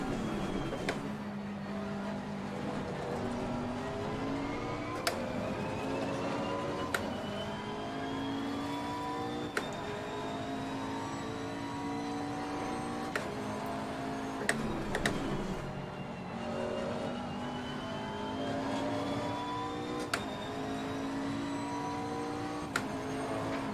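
Ferrari race car in Assetto Corsa Competizione, its engine droning steadily and rising in pitch through repeated gear changes, with sharp clicks marking each upshift; alone, no talk.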